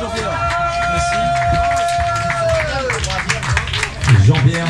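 A crowd claps for a trail runner at the awards ceremony of a midnight trail race, steady applause under an announcer's amplified voice and background music.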